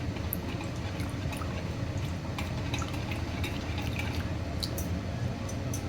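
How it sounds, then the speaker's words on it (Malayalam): Loose rava dosa batter poured from a ladle back into a bowl, making a soft, steady dribbling and dripping sound that stays faint and continuous, with no talking. "ഒരു തവി കൊണ്ട് ഞാനിതിൻ്റെ കോരി കൺസിസ്റ്റൻസി കാണിച്ചു തരാം"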